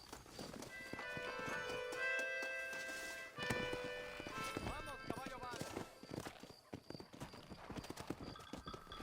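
Horse hooves clip-clop steadily in the Western open-world game Red Dead Redemption, a brisk rhythmic trot close by under game music and characters talking, with a horse snorting.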